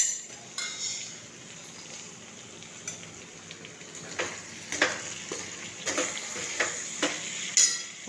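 A spoon stirs a potato chips curry with coriander in a pan on the stove, giving scattered light scrapes and metallic clinks over a soft steady sizzle, close and fairly quiet.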